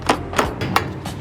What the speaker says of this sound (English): And then now we take the wheel weight hammer and then we hammer.